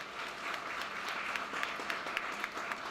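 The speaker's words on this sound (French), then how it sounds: "Applaudissons-les, s'il vous plaît." An indoor audience claps steadily throughout at a women's rights ceremony, a dense even patter of many hands at moderate volume.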